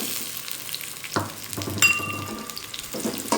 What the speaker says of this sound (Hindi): दो से 3 मिनट हो गए हैं कैरेट्स को फ्राई होते हुए